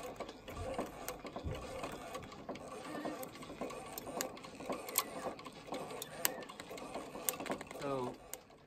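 A sewing machine stitches pinned leather volleyball panels together, making a continuous rapid mechanical whir with sharp repeated clicks and ticks, close and fairly quiet, with a brief voice near the end.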